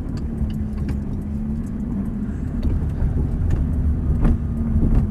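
A Ferrari F430 engine idles with a deep, steady rumble and occasional small revs, close by and continuous.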